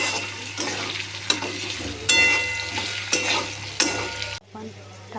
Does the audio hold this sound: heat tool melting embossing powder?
no